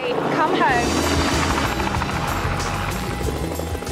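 Helicopter in flight on a round-the-world record attempt, a loud steady rotor and engine drone with rhythmic blade chop that persists throughout, with a voice talking over it.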